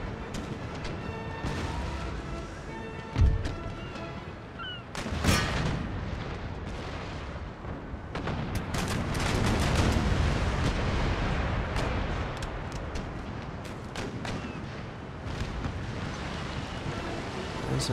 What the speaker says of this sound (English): So much cannon fire.